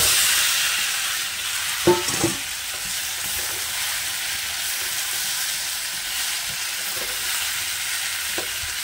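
Sweet potatoes fry in hot spice paste while being stirred, a steady close sizzle with a few spoon scrapes and clinks against the pan early on, no voices.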